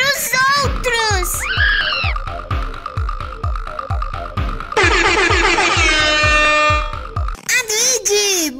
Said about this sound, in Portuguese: Ele vai buzinar e chamar os outros!